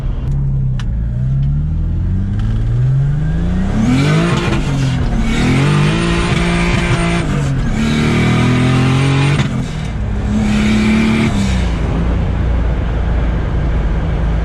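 A turbocharged BMW E30 with a 3.0L M52 engine, built to about 530 wheel horsepower, accelerates hard. It revs up repeatedly through the gears with a loud, rising engine note and a brief tire squeal.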